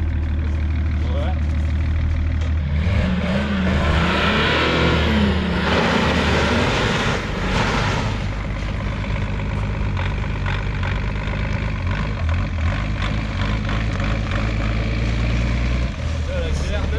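A heavy truck engine in a truck-driving game hauling toward 50 tonnes revs up in a deep sustained drone that rises and then holds steady, loud and close, with someone talking over it.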